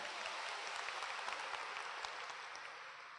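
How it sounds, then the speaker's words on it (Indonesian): Audience applause at a motivational event in Bandung: a dense, steady wash of clapping from many hands that holds at an even loudness throughout, with no talk over it. "aplaus buat Anda semuanya"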